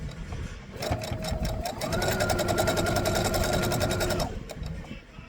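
A home sewing machine stitching sashing for a first quilt runs in a steady rapid whirring rhythm for several seconds, close and fairly loud, with a brief speed change midway before it stops.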